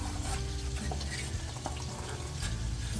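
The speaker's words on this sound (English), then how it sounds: "we are going to carefully put these taters down in this boiling water." Potatoes lowered with a spider strainer into a pot of boiling water on the stove, giving a steady, close bubbling and sizzling churn with soft stirring scrapes throughout.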